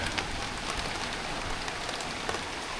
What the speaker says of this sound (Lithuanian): Saulė šviečia ir lyja.